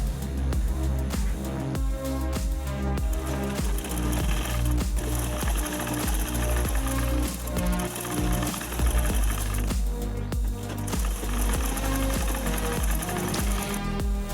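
A sewing machine runs steadily while stitching the hem of a Naira-style dress, a continuous loud, rhythmic mechanical chatter lasting the whole stretch with no break.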